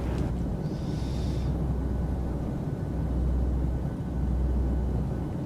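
Airliner engines rumble in a steady, dense drone during a climb in Microsoft Flight Simulator 2020, a continuous broadband roar with a brief higher whine near the start and no talking.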